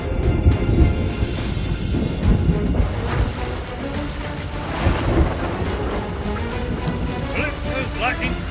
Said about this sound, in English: Calypso's lightning cracked the spot.